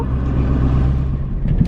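Car driving along a road home in Alaska, steady engine and tyre rumble heard from inside, continuous and fairly loud with no talking.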